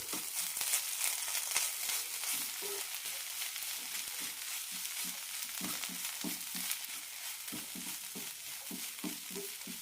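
Homemade paneer is stirred into a vegetable filling in a hot pan, giving a soft sizzle broken by repeated quiet scrapes and clicks of the spoon at a steady rhythm.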